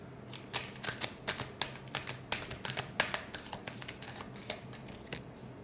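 Tarot cards are shuffled by hand in quick, crisp riffling bursts, a close, quiet run of papery flicks and slaps with short gaps between them.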